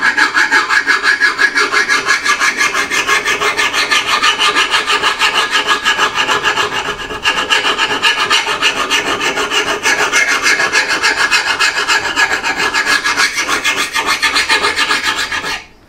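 Axe blade held in a vise being filed, a long run of loud rhythmic rasping strokes with a brief pause near the middle before the scraping resumes.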